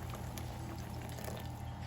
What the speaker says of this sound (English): Add in about 2 cups of water, or just enough to cover your rice.